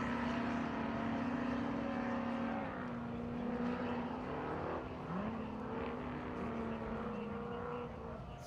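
Off-road race vehicles at the King of the Hammers desert race run side by side into a wash, their engines droning steadily with pitch shifts as they change gear at a middle distance.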